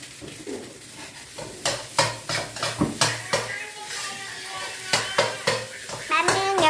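Crab meat frying in a pan for crab fried rice, with sizzling under repeated scraping and clanking of a utensil against the pan, with a voice speaking briefly.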